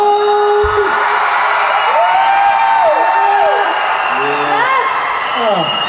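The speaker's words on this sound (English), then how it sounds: "Singapore, big round of applause for yourselves, everybody." A crowd at a red carpet meet and greet for The Amazing Spider-Man 2 in Singapore cheers, whoops and yells steadily and loudly throughout, with scattered applause in a dense, continuous roar.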